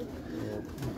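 A pigeon on a rooftop coos low and steady at close range, mixed with a voice talking over it.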